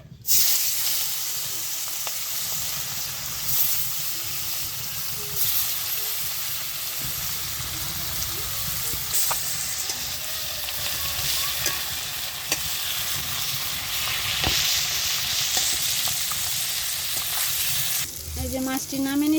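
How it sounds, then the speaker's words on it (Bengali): Fish fries in hot oil in a wok, making a loud, dense, unbroken sizzle that holds steady for a long stretch, with occasional sharp spatters and a brief clatter near the end. "তেলটা গরম হয়ে গেছে মাছটি দিয়ে দেয়"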